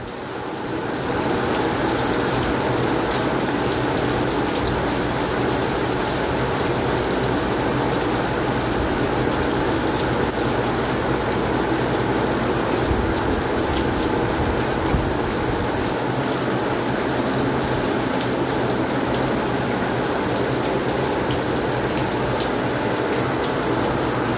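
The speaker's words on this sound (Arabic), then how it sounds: "امطار خير وبركة" Steady, heavy rain pours down continuously in Jeddah, a dense even hiss of drops striking surfaces, with no voices.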